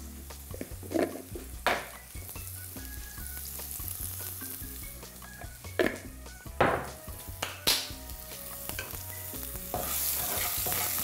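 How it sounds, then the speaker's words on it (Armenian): Salted and sugared onions sizzling and caramelizing in a pan, with a steady soft frying hiss broken by occasional clinks and scrapes of stirring, close and alone with no voices. "մինչ սոխը կարամելացվում է"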